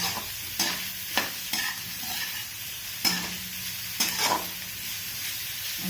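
A spoon stirs vegetables through a masala idli mixture, giving a few distinct scraping strokes and knocks against the bowl over a soft, low background, close and unaccompanied by speech.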